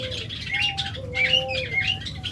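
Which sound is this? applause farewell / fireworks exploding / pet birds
pet birds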